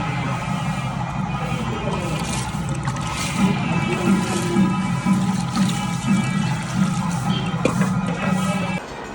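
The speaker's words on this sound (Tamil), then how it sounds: "இதுதான் கிணத்துலேருந்து தண்ணி எடுத்தா கால் கழுவும்." Well water is poured for washing feet at a temple during a festival, making a continuous splashing rush with a busy outdoor background and possible faint voices.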